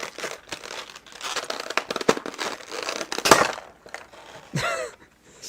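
A Star Wars Black Series action figure is pried from tight, sealed plastic packaging, with crinkling, crackling and sharp snapping plastic up close, ending in a loud tearing crunch.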